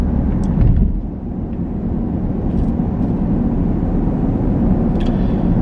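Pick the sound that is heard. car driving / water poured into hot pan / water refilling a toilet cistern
car driving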